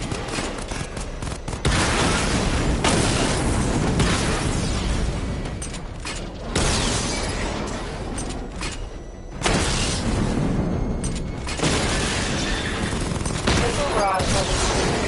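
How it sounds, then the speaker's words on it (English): Batmobile missile barrage in Batman: Arkham Knight, rapid volleys of explosive blasts and gunfire-like bursts in loud waves with brief pauses between, under intermittent narration. "Charge the missile barrage to level 2 to destroy up to 4 targets at once."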